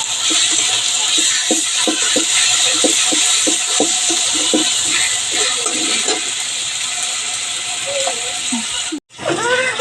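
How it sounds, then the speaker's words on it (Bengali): Ginger garlic paste and dried chili fry in hot goat fat for a wedding-style mung dal, giving a loud, steady sizzle with scattered pops that breaks off briefly near the end, with faint talk. "এই বেটে রাখা আদা আর রসুনটা দিয়ে দিলাম দিয়ে কিছুক্ষণ আমি এটা ভেজে নেব"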